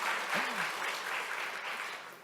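A church congregation at a Sunday worship service in Sydney applauds, a steady wash of many hands clapping that stays fairly even and moderately loud throughout, with a brief voice sounding over it near the start.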